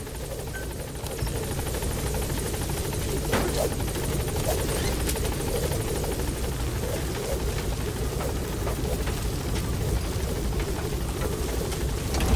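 Helicopter in the video game Metal Gear Solid V: The Phantom Pain, a steady droning rotor roar that runs loud and constant throughout, with a faint radio-style voice briefly in the mix.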